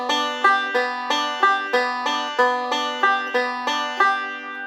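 Bluegrass banjo rolling through a steady thumb, index and middle finger pattern on Boil the Cabbage Down, bright twangy plucked notes in an even repeating cycle, close and clear with no talk.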